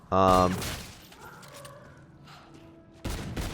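Video game gunfire against zombies: a short loud burst of rapid shots, then a quieter stretch of game sounds and mechanical clicks, then another burst near the end, close and punchy.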